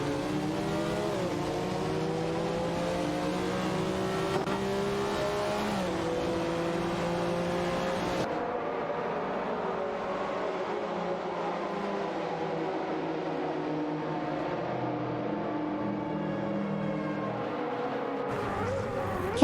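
Race cars in a video game, including a Jaguar XJR-9 and a Nissan R90, droning continuously with engine tones that rise and fall through gear changes, mixed with a blended road and pack roar.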